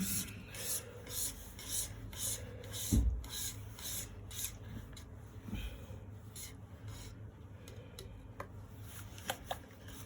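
Quiet rasping and rubbing strokes as a palette knife scrapes up a thick ochre paint mixture, repeated short scrapes with a few sharper clicks and one dull knock, close and soft with no speech.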